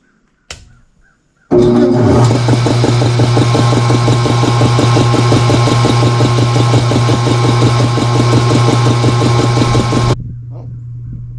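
A compressor kicks on abruptly after a brief click and runs with a loud, steady mechanical drone and rapid rhythmic pulsing for about eight seconds, then cuts off, leaving a lower residual hum.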